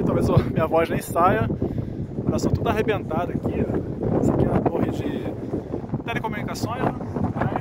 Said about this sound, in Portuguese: o vento tá forte agora aqui